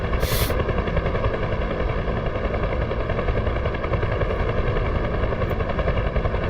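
Helicopter flying in a combat search-and-rescue video game, a loud, steady rotor-and-engine drone that runs throughout, with a brief sharp burst near the start and no talk.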